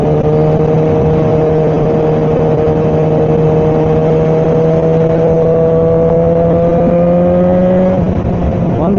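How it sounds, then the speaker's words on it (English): A fully modded Kawasaki ZX4R motorcycle engine drones loud and steady at sustained high revs, close up from a helmet perspective, its pitch holding level and then dipping slightly near the end, with no voices over it. "I hope you're enjoying this extended remix of the Black Kawasaki Noisemaker"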